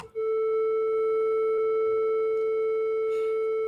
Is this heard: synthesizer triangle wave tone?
yes